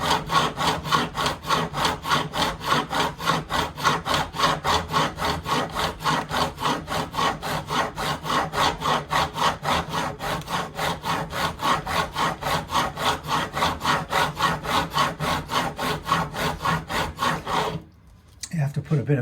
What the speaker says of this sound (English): from here on it's just a case of fine-tuning it with end files and sanding and so forth